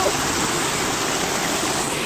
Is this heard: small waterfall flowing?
yes